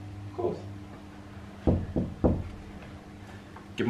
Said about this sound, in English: Do you want me to knock again?